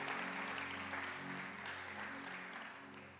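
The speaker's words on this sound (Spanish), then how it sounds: "Den un aplauso a mi Jesús" A church congregation applauds during a sermon, with clapping spread evenly over the whole stretch at a moderate level over a low, steady hum.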